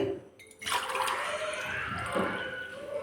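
Water poured from a glass onto uncooked rice in a pot splashes and gurgles steadily for a few seconds, close and continuous.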